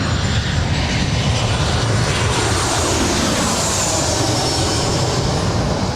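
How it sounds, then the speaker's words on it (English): A Delta Boeing 737-800 jet arriving from Portland roars loudly and continuously on landing at LAX, a broad, steady engine rush with a faint high whine and no break. "That was Delta 1420 coming in from Portland, a 737-800."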